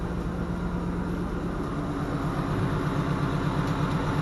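A car engine idles steadily after an oil change, a close, continuous low drone with a faint rhythmic tapping running through it.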